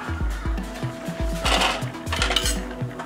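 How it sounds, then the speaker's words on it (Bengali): A spoon scraping and knocking rhythmically against a cooking pot while curry of green jackfruit is stirred, repeated metallic clinks close by with a low sizzle beneath. "ভালোভাবে আমি আবারও নেড়ে নেব।"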